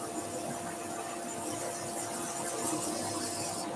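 Abrasive paper working a spinning pen blank on a wood lathe, a steady broadband whir and hiss with a constant motor hum running underneath, moderately loud and continuous with no talking.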